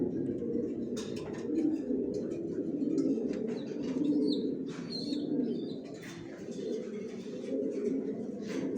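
Grizzle pigeons coo in low, rolling phrases inside a loft where birds sit on eggs, with a few scattered chirps and a soft flutter mixed in, fairly close and continuous.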